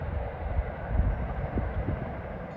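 NJ Transit Suffern–Hoboken train 1124 on the Mainline near the Gertsen Plaza crossing, heard as a steady low rumble and rolling wheel noise with no talk.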